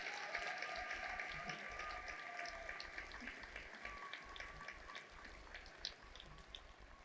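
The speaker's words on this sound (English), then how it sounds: "Please, a big round of applause for our special guests," Steady applause from a large audience in a parliament chamber, dense and continuous, with scattered louder claps and a few faint voices underneath.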